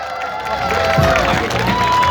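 Crowd cheering and applause for the dancers at a summer dance battle awards ceremony, a steady, dense roar of voices and clapping that fills the whole stretch.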